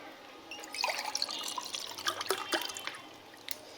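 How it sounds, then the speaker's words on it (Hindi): A short pour of water into a glass with splashing, trickling drops that swell and fade over a few seconds, close by and fairly quiet. "मैं इसी पानी को अब इस गिलास में डाल रहा हूँ"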